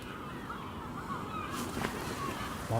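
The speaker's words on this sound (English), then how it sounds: "I know the seagulls are going." Gulls call at night at a camping spot: a scattering of honking, goose-like cries over a steady, hissing outdoor background, moderately faint and fairly distant.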